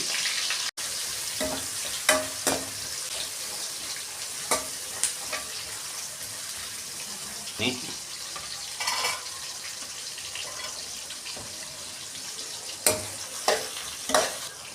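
Onions sizzle in hot oil with cinnamon and cloves, a steady frying hiss broken by sharp clacks and scrapes of a spoon stirring against the pan.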